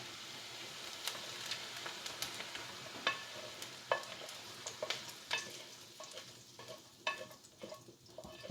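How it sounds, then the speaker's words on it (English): Fried onions scraped from a frying pan into a pot of zucchini soup, giving a soft sizzle with scattered clinks and stirring scrapes, close and fairly quiet, with no talking. "I'm going to put them in the soup right now."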